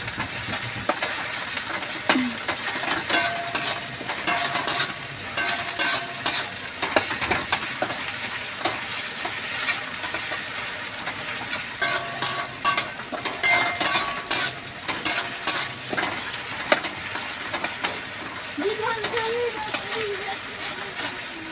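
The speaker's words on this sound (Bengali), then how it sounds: "রসুনটা একটু ভালো করে তো ভাজতে হবে।" Garlic sizzling steadily in a hot kadai, with frequent scraping clatters of a spatula stirring it; close and loud, a voice speaking briefly near the end.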